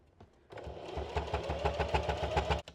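A sewing machine runs in a quick, even burst of rapid stitching while mending an old pool bag, starting after a brief pause and stopping abruptly near the end, close and alone.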